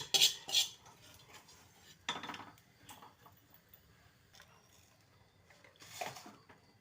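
Roasted coconut scraped from a pan into a vessel, several faint metallic spoon clinks and scrapes spaced irregularly against a quiet kitchen background.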